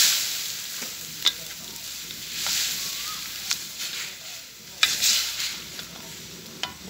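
Spicy red curry paste is stir-fried for a Thai jungle-style fish curry: a low, steady sizzle runs throughout, with occasional scraping and clinking stir strokes standing out at close range.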